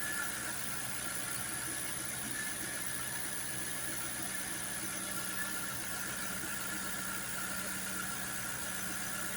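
Jaguar XK8 engine idling under an open bonnet, a steady, even hum with a faint high whine or squeal running continuously, with no speech over it.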